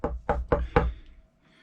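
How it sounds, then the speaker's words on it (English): Four quick, even knocks rap on a wooden door, close and moderately loud, followed by a brief quiet tail. "He knocked on the door."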